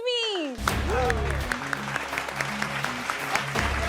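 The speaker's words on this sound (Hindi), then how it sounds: "आपकी बहुत सारी तालियों में let's have on the set बरकत एंड उज़्मी।" Studio audience applause greets two talk-show hosts coming onto the set, breaking out loud after a brief musical swell and continuing as steady clapping over a low music bed, with voices mixed in.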